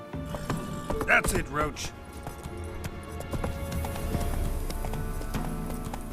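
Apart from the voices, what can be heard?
horse Roach hooves in The Witcher 3 video game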